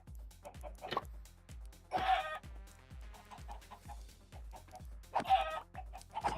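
Chickens cluck in short, sharp bursts while being slaughtered in Minecraft, over a steady, rhythmic low thudding, with a few louder squawks standing out.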